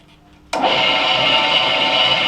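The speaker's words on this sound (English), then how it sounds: "We'll close the lid, turn her on, and cut this keyway." A machine fitted with a geometric die head adaptor cuts a keyway. After a brief quiet moment it starts abruptly, then holds a loud, steady, whirring grind close by for the rest of the clip.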